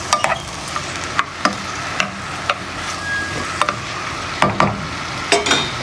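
A shrimp cake mixture with onion and salt fries in a pan, a steady close sizzle punctuated by sharp pops and spatters at irregular intervals.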